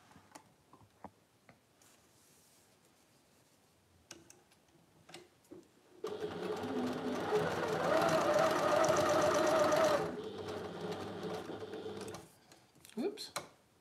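A sewing machine stitches a seam line in a summer quilt block, running steadily and loudly for about four seconds. Softer ticks and handling noises come before and after the run.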